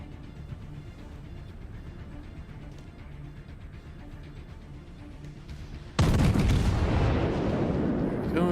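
Naval guns fire a salvo in the World of Warships video game, heard as a sudden deep boom that rolls into a loud rumble. Before it, a low engine drone runs under faint game ambience.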